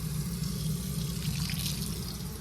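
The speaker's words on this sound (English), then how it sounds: "So I'm gonna turn the hot water on." Hot water tap running in a Forest River R-POD 171 camper trailer, a steady close rush of flowing water into a sink that continues evenly throughout with no talking.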